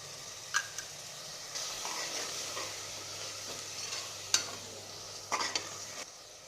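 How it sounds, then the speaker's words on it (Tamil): Ginger garlic paste, Kashmiri chili powder and garam masala sautéing in a pan for biryani, a steady sizzle with stirring scrapes and a few sharp clinks of a spoon against the pan, no talking. "இஞ்சி பூண்டு பேஸ்ட், காஷ்மீர் மிளகாய் தூள் 1 ஸ்பூன், கரம் மசாலா 1/2 ஸ்பூன், இதெல்லாம் நல்லா வதக்கி எடுத்துடலாங்க"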